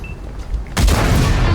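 A single heavy tank cannon blast in World of Tanks booms suddenly after a quiet stretch, followed by a rumbling, noisy tail.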